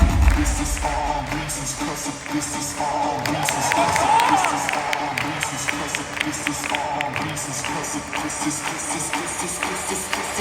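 An arena audience cheers and claps steadily for gymnasts at a competition. The applause is dense and ongoing with scattered whoops, and it swells briefly in the middle while an announcer talks over the crowd.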